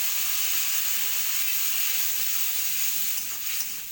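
Spice paste sizzles steadily as it is fried and stirred in a pan for a hinchar and rohu fish broth, a loud, continuous close-up hiss with no talk.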